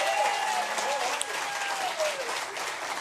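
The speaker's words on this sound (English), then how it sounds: "Give yourself a big round of applause as well." Live audience at a bluegrass and honky-tonk music radio show applauding, steady clapping with whoops and whistles woven through and a voice speaking over it.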